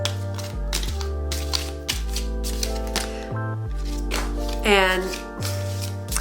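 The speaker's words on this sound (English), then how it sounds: "So I'm just gonna give this deck a quick shuffle." A tarot deck being shuffled in quick, crisp riffles, close by, with soft background music and a brief word spoken.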